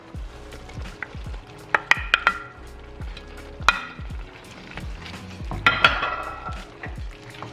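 Smoked sausage goes back into a pan of low-carb keto jambalaya and gets stirred in, with a steady sizzle of frying under repeated scraping and clinking of a spoon against the pot, a few sharper knocks standing out.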